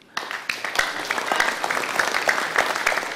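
A studio audience at an Indonesian television talk show breaks into dense, energetic applause for the singer, with quick overlapping claps that keep up throughout.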